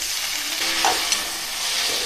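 Chopped tomatoes sautéing in a pan with salt for besan flour sambar, a steady close sizzle with soft stirring scrapes throughout.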